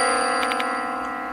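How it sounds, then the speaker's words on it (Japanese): In the horror video game Shinigami Shibito Magire, a bell rings out over a sustained droning tone, with a few quick metallic strikes close together and one faint later hit. "なんだこの鐘の音は。"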